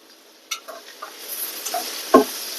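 Onions go into a pan for a dried fish (shutki) curry, heard as a few scattered clicks and taps followed by a low sizzle and one sharper clatter near the end, all fairly quiet.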